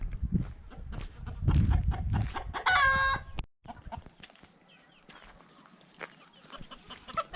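Chickens cluck in a small Turkish village, close and scattered, with a brief crowing burst, then softer, sparser clucks against quiet background noise.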